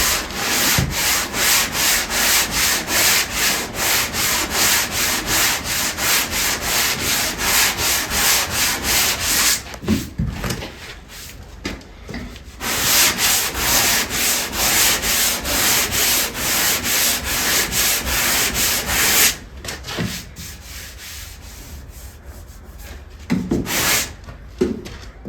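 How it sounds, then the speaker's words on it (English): Wood being sanded by hand, steady rhythmic back-and-forth rubbing strokes close up and fairly loud, with two brief pauses where the scraping drops away before resuming. "I'm forever sanding."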